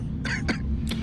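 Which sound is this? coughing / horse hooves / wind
coughing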